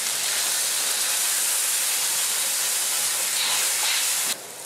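Water poured into a hot wok with chili bean paste for char siu pork, a loud, steady, close hiss of steam that holds for several seconds, then drops off abruptly near the end; no talking.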